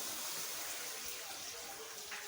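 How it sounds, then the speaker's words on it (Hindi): Lukewarm water pours steadily into a pan of fried chicken feet, a continuous splashing gush heard up close without speech. "अब हम इसमें पानी ऐड करेंगे।"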